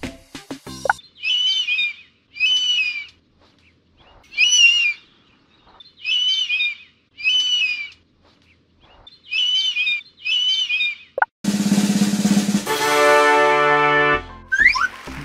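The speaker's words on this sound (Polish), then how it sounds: "Brawo, to orzeł." An eagle calls in a series of repeated high, sharp cries spaced about a second apart, loud and close, followed by a brief burst of unrelated musical tones.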